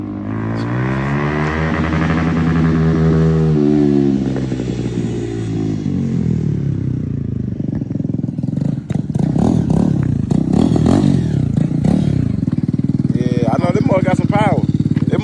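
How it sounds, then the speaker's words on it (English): A motorcycle revs hard during a wheelie attempt, its engine rising and falling loud and close, with a rough clattering acceleration in the second half. People talk over the engine. "He trying to get that wheelie right."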